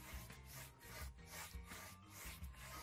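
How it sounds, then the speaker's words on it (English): A scraper spreads whitewash mixture over a wooden surface in quiet, rhythmic back-and-forth rasping strokes, about two per second, close but faint, with no talking. "you can go over the top of this with a scraper"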